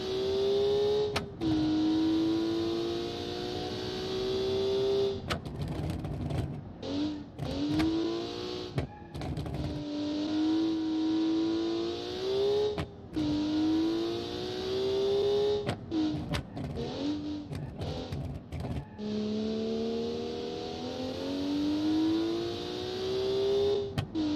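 Simulated 200-horsepower car engine in the Automation game, a steady revving drone that rises and falls in pitch through repeated gear changes, loud and continuous with brief dropouts.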